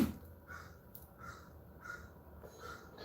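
Several crow caws in a backyard, repeating at roughly regular intervals of about a second, moderately distant and fairly quiet over a low background hum, with no voices.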